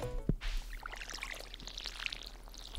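Watering crops with a watering can in Stardew Valley, a short pouring splash after a brief tone, followed by a scatter of soft, bubbly droplet sounds fading out.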